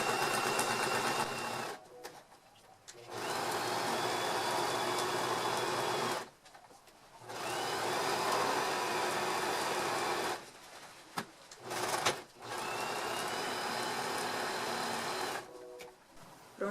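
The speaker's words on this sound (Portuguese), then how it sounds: "Passo uma costura de pesponto, tá?" A sewing machine runs a wide topstitch seam on a fabric bread basket, with steady close mechanical whirring in long runs. It stops briefly several times between runs, and no one speaks.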